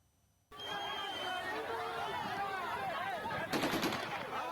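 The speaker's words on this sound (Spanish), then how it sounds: "Con disparos en el aire" Gunshots are fired into the air to contain a protest against military mobilization in Dagestan, Russia, sounding as sharp bursts over a loud, continuous crowd din, with a rapid cluster of cracks near the end.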